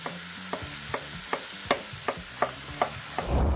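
Beef browning in a pan for Flemish carbonnade, sizzling steadily while a spoon stirs it in regular strokes, roughly every third of a second, close by and with no voices.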